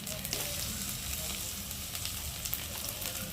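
Onion, garlic, ginger and cumin paste with chopped tomato sizzle steadily in a pan for a mutton curry, a close, continuous frying hiss with no talk.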